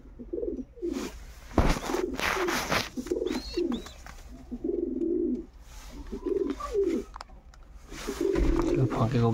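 Jiria pigeons in a loft with eggs and chicks, giving repeated soft, throaty coos in short rhythmic bursts close by, with a few sharper sounds and background noise in between.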